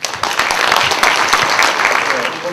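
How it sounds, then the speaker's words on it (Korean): An audience at a science and technology policy seminar claps loudly and steadily in a dense burst of applause lasting a couple of seconds. "많은 경청 그리고 격려의 박수 부탁드리겠습니다"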